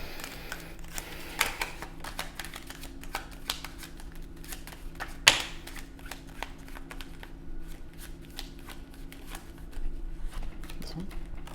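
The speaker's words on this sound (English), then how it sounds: "let's see if I can shuffle" Soft, steady shuffling of an oracle card deck, close up, with a faint constant hum underneath and a brief click midway.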